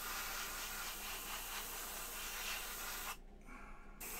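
Primer sprays steadily from a can onto a McFarlane Hellblaster Primaris marine figure, a close, continuous hiss that cuts off near the end, then briefly resumes.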